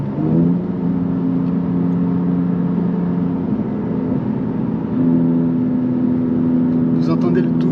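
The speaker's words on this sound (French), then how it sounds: "Vous entendez le doux bruit du 6 cylindres." Steady, loud mid-pitched drone of a track-focused BMW M3 CS inline six-cylinder tuned to 580 hp, holding a sustained engine note throughout from inside or close to the car.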